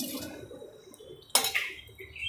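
A dish or steel plate is picked up with a short clatter of metal against metal, set amid ongoing kitchen clinks and rustles while Gujarati barfi is being made.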